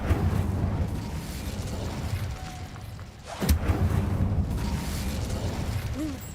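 A fire spell cast in the Hogwarts Legacy video game, a steady rumbling roar with a sharp burst near the middle, then the flames keep crackling and churning at the same level.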